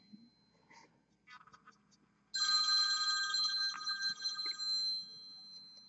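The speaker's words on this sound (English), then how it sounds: "That phone call is probably my mother." A telephone bell rings loudly and steadily for several seconds, cutting in abruptly after a stretch of quiet tapping and handling at a miniature-painting desk.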